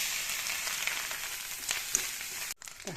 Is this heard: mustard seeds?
yes